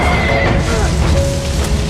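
A horse lets out a loud, strained whinny, dense and close, as it falls from a cliff after being shot in the leg, with a heavy rumble and crash mixed in throughout.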